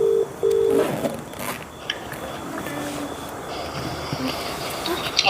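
Telephone tone heard while placing a call: two short bursts of a steady electronic beep at the start, followed by fainter tones and clicks over a noisy background of rumble and handling sounds.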